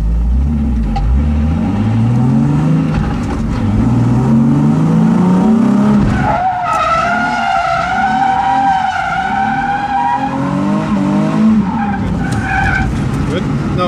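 Drift car sliding sideways through a corner on a track, tires squealing in long rising and falling tones over a steady engine drone, close and loud throughout, with someone talking over it.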